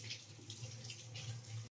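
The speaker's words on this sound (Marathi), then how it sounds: "ते स्वच्छ पाण्याशी धुवून घ्यायचे, पानं, फुलं आणि कढीपत्त्याचे पाने" Hibiscus leaves and flowers, along with curry leaves, are rinsed under clean running water, a steady close splashing stream from a tap into a sink that stops suddenly at the end.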